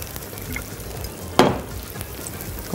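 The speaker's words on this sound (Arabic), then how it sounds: "وهننزل عليهم على طول العين الجمل والثوم المفروم" Walnuts and minced garlic drop into hot olive oil, giving one sudden loud sizzle burst that fades into a softer, steady frying hiss.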